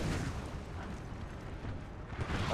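Artillery in a battle in the video game Napoleon: Total War, a dense, continuous rumble of distant cannon fire and booms blending into one heavy roar.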